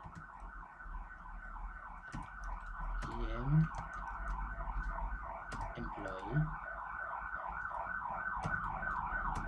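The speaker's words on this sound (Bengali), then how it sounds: "অ্যাম্বুলেন্সের আওয়াজ, ডোন্ট মাইন্ড, পাশ দিয়ে অ্যাম্বুলেন্স গেলে করার কিচ্ছু নাই" An ambulance siren passes on the road beside a house in a steady wailing cycle that grows louder across the clip, while someone speaks briefly over it.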